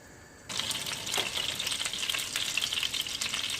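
Hot oil sizzles in a pan, starting abruptly and holding as a steady, close, bright crackling hiss with small pops, ready for pre-soaked white rice.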